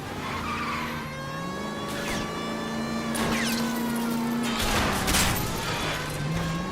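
Tires skid and screech during a car chase in the video game L.A. Noire, with engines roaring and long squeals rising and falling over the engine drone, loud and close.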